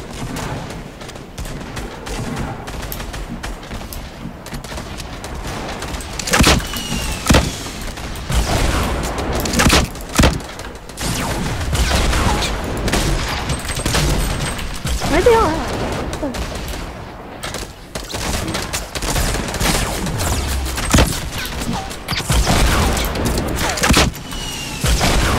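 Dense Fortnite battle gunfire fills the scene: continuous volleys of shots, thumps and explosions, loud and close throughout, with players talking over the fighting.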